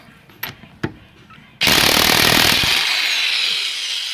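A few light knocks come before an electric Makita power tool bursts on loudly at close range, its harsh buzzing roar running continuously and easing slightly toward the end, used on a Type 4 VW Bug's side access panels.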